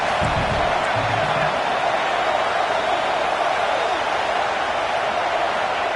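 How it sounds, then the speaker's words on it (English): Crowd at a Canadian football stadium roaring on fourth down, a dense, loud, sustained roar that stays even throughout, with faint voices within it. "The crowd is roaring, trying to help this defense on fourth down."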